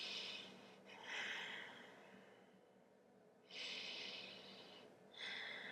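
Slow, deep breaths drawn in and pushed out during a yoga pose, each one a soft, close, airy rush with quiet pauses between, and no talking.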